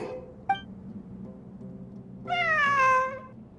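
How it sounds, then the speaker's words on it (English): A cat meows in the video game Genshin Impact during ruins exploration, first a short chirp and then a longer, rising-and-falling meow, clear and close against a low ambient hum. "A cat? I think there was one earlier, too. I'm not hearing things. It really is a cat."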